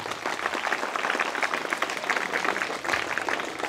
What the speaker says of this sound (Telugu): మల్లన్నకు మనం అంత మనస్ఫూర్తిగా మళ్ళొకసారి ఘనంగా చప్పట్లతో చెప్పాలి.